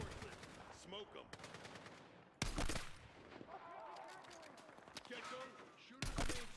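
Battlefield 6 campaign combat with bursts of rapid automatic gunfire and loud individual shots, some near and sharp, others distant, mixed with radio-style voices talking over the fighting.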